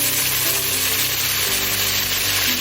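Half a cup of fresh mint hits hot oil and ghee for a mutton mandi gravy biryani, giving a steady, dense sizzle and crackle that stays loud and even throughout, with no voices.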